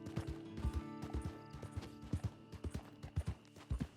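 Horse hooves clip-clop on the ground at a farm with many horses in Red Dead Redemption 2, a steady run of close, irregular thuds over about four seconds with a faint whinny-like tone in the background.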